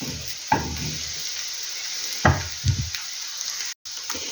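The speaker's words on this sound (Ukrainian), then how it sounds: "І заодно і смажиться цибуля" Steady sizzling of onion frying in a pan, with a few soft knocks and scrapes of a utensil stirring.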